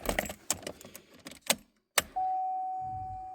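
Car keys jangle as they go into the ignition of a 2017 Chevrolet Equinox, a few sharp metallic clinks close by, followed by a steady warning tone.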